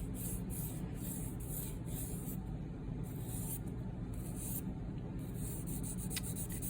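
A piece of jewelry is rubbed back and forth on a polishing board to take scratches off its edges, a steady rasping scrub in short repeated strokes, close and continuous, with no voices.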